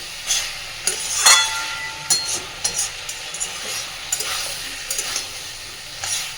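Potato and cauliflower with spices are stirred in a pan, giving intermittent scraping clinks and soft sizzling in short bursts at close range, with no talk.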